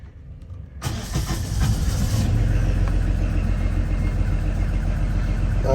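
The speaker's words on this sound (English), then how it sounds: "Engine started." The repaired starboard diesel engine of a sailboat cranks after a quiet moment, catches within about a second and settles into a loud, steady idle rumble.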